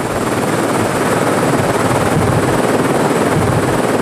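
A helicopter works at a cliff on Lord Howe Island during weeding operations, its rotor and engine making a loud, steady, unbroken drone throughout with no voices.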